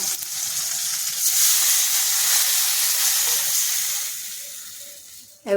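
Curry gravy poured into a hot tempering of mustard seeds, tomato, onion and curry leaves sets off a loud, steady hiss and sizzle close up that fades slowly before a brief clatter at the end.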